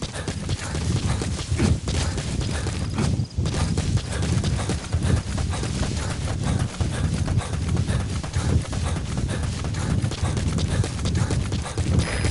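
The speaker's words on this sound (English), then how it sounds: "Use your horse." Horse hooves clip-clop in a steady, continuous rhythm in MudRunner, close and prominent over a dense, noisy outdoor bed with no pauses.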